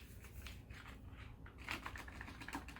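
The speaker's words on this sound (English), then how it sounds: "So what I'm going to do is shuffle them." Oracle cards being shuffled by hand, a quiet run of soft, rapid papery flicks and taps in irregular bursts, close and faint.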